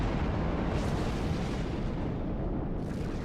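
A starship blows up in the Star Trek Online space combat game, giving a dense, sustained roar of rumbling blast noise that holds at steady loudness for the full few seconds, with no voices.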